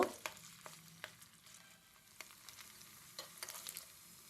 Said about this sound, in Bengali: বাকি ফুলকপিগুলোকেও আমি এভাবে করে ভেজে নামিয়ে নেব